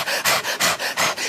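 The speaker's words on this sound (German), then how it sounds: "Hektisch atmen, Augen aufreißen." A studio audience on a morning TV show pants in fast, forced breaths, about six loud, rhythmic huffs in quick succession with no speech over them.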